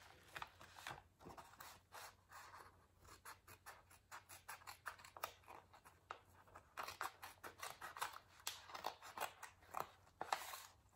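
Small scissors snip open a paper envelope up close, a quiet run of crisp, uneven clicks and slicing scratches that come in short bursts and grow busier toward the end, with no talking.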